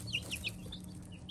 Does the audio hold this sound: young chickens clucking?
yes